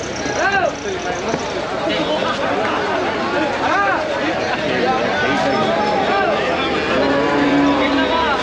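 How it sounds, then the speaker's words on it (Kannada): At a busy livestock market in T Narasipura, cows and calves moo in long rising calls, several overlapping near and far, over a constant crowd murmur with people talking throughout. "ಎಲ್ಲ ಹಸು ಎಲ್ಲ ಹಾಕ್ಬಿಟ್ಟಾರೆ. ಚಿಕ್ಕ ಚಿಕ್ಕ ಮರಿಗಳೆಲ್ಲ ತಂದು ಹಾಕ್ತಿದ್ದಾರೆ."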